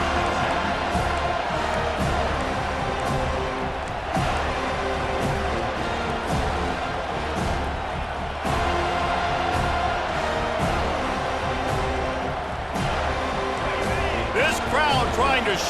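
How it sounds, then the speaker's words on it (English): Stadium crowd in College Football 25 roars in a constant dense wall of noise, loud and sustained throughout, with a commentator talking over it and a sharper burst of cheering near the end. "This crowd trying to show them what it's going to be like all day in this house."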